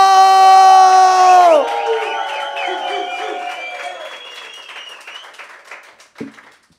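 At a live music event, a crowd shouts and cheers after a loud sustained held note fades out, with scattered whoops and clapping rising and dying away into a final burst.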